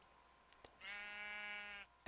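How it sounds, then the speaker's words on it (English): A sheep in a video game lets out one drawn-out, wavering bleat, loud and close. It is framed by a few faint clicks before it and a sharp burst right after. "That's a sheep."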